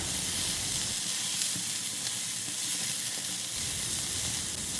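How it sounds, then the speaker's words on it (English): Sausages with mixed vegetables sautéing in seasonings in a pan, giving a continuous bright sizzle and hiss with a few soft stirring knocks, close and steady with no voices. "We stir the sausages in between until they are done"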